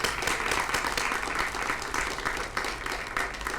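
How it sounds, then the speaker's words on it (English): A conference audience at the Paul Robeson Conference applauds, a dense, sustained wash of many hands clapping at moderate distance in a large room, steady throughout. "Applause for them, too."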